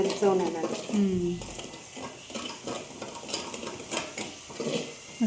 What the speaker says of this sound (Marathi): मस्त तळून द्यायचं खरपूस असं मस्त.